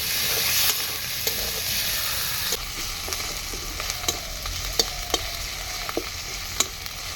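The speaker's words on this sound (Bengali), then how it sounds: "এবার কেটে রাখা টমেটোটা দিয়ে দেবো।" Chopped tomato dropped into spice paste frying in a pan, a loud sizzle that settles into a steady hiss with occasional sharp clicks of stirring, close and alone.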